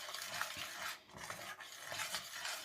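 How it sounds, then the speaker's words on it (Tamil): A thickening eggless bread pudding mixture is stirred in a pan, giving a steady scraping and swishing with short pauses and a faint sizzle underneath, close up and with no voices. "மட்டும் இதை கைவிடாமல் மிக்ஸ் பண்ணணும்"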